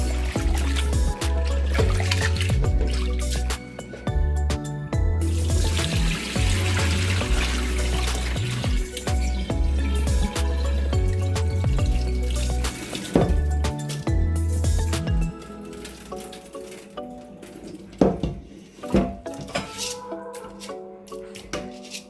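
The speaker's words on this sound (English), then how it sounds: "I'm washing the rice a second time now" Parboiled rice being washed a second time under a running kitchen tap, water streaming and splashing steadily and close, with a busy mix of clinks and sloshes that thins out toward the end.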